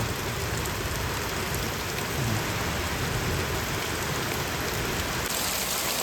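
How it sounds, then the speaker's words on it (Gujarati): Heavy monsoon rain pours steadily in a Botad village, a dense continuous roar of drops hitting surfaces, with thunder rumbling low beneath the downpour and no voices. "વીજળીના થાય છે કડાકા ભડાકા."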